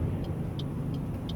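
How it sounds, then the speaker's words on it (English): Steady rush-hour car traffic on a residential street, a continuous low rumble of passing vehicles close by with faint higher hissing swells, no voices. "Now I know this traffic looks pretty consistent, but this is the rush hour."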